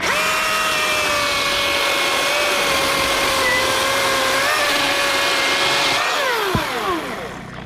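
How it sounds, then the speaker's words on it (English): A Milwaukee M18 brushless electric chainsaw cuts through oak with a steady, loud motor whine held under load. Near the end the pitch drops sharply as the saw winds down. "Oh my gosh, it just rips right through this oak."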